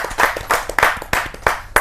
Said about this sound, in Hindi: जोरदार ताली के साथ हम